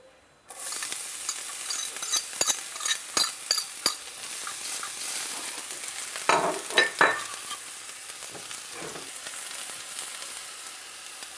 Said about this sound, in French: Donc pour la sauce, nous allons faire revenir l'ail.